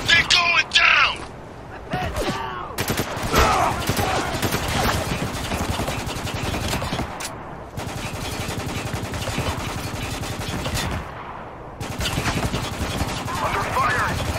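Bursts of automatic gunfire and shotgun blasts fill a firefight in the video game Spec Ops: The Line, with brief pauses between them and soldiers shouting callouts over the shooting.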